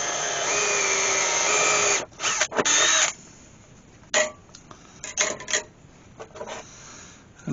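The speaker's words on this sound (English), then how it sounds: "I'm going to drill a hole straight down through there." A power drill bores a hole through a turned wooden Christmas gonk ornament, with a continuous loud whine and grinding for two seconds, then several short bursts of drilling and scraping.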